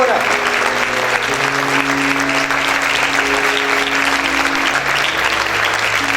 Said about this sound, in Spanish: Aplaude fuerte a tu Rey en esta hora.